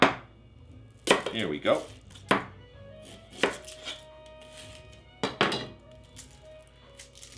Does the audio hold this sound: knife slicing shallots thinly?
yes